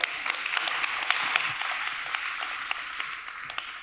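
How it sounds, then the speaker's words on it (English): Audience applause for an investor taking the stage at a startup pitch event: dense, steady clapping from a crowd, moderately loud and continuous, without talk. "Please give a big applause."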